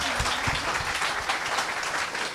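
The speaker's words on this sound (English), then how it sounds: "Everyone clap for that" A live podcast audience breaks into steady, dense clapping that fills the room at full strength and holds for the whole stretch with no voices above it.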